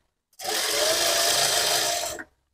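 One continuous run of a sewing machine stitching the edge of a sleeveless blouse lasts about two seconds, a close, steady, fast whirring that starts and stops abruptly.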